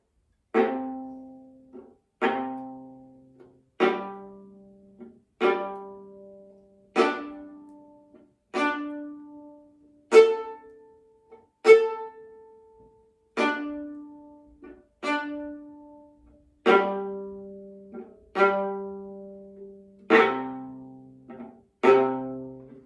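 A viola plays a series of about thirteen short, separate collé bow strokes alternating at tip and frog, each a crisp pluck-like attack that rings and decays, evenly spaced and fairly close.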